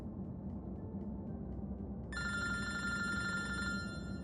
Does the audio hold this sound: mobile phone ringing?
yes